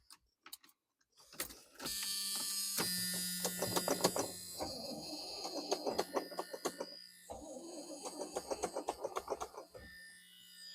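Small block Chevy V8 in a vintage GMC motorhome cranks with a whirring starter, catches and settles into a steady, close idle with rhythmic pulsing, after a few clicks at the start.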